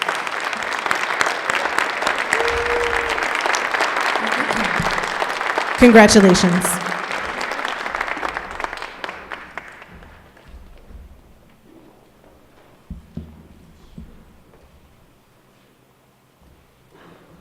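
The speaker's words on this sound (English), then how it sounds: "Please get up and stand so we can applaud." A graduation ceremony audience applauds award recipients in a hall, a full steady wave of clapping that fades out by the midpoint, with a voice offering congratulations and scattered murmurs afterward.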